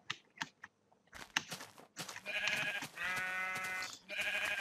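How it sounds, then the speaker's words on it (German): Sheep bleating in the Minecraft video game, several wavering bleats in succession after some faint clicks and taps, fairly loud and close, with no talking. "Das nächste Schaf wartet schon auf uns."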